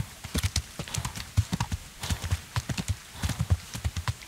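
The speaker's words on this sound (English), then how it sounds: "Horse, come on, you can do it." A horse's hooves clip-clop in the video game Kingdom Come Deliverance as it climbs a hill, a steady close rhythm of paired hoof strikes repeating throughout, with no talking over it.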